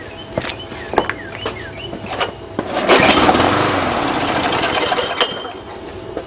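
A Tecumseh lawn mower engine turns over with a few short pull-cord tugs, then catches with a loud rough sputtering run for a couple of seconds before it fades and dies.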